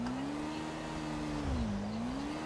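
A motorbike engine hums steadily close by, its pitch holding level then dipping and climbing again as the throttle shifts, with a rough rumble in the lows and no talk over it.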